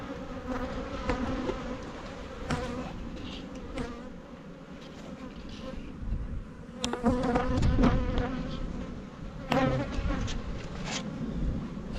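Honey bees swarm around a beehive in a mountain bee yard, a dense continuous buzz close by with individual bees zipping past the listener now and then.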